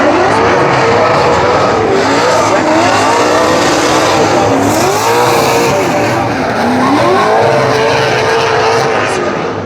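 A race car, likely a drift car, screams loudly around the Kern County Raceway track during a qualifying run, with a sustained wavering engine note rising and falling and tire squeal over continuous roar, close and without pause.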